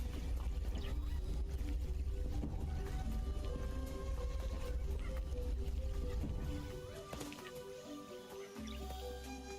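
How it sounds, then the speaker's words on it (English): Steady rushing water from a waterfall in the video game Cyberpunk 2077, a continuous broadband wash under soft sustained game music tones. It grows quieter toward the end, and no one speaks. "I was like, I hear a waterfall."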